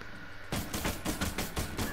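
Rapid gunfire from Rainbow Six Siege, a close, loud burst of repeated shots cracking in quick succession after a brief quiet start, with no talk over it.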